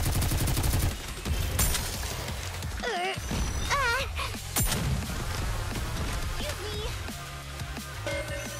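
Gunfire in the video game NIKKE rattles in quick bursts alongside game music, voiced character lines and other game effects, with a brief gap in the middle.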